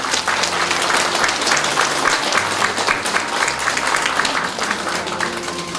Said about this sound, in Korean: 다시 한 번만 박수 부탁드립니다.